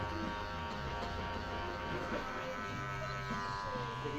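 Electric hair clippers buzz steadily while trimming the edge of a side-part haircut, a close, constant low hum with faint cutting texture.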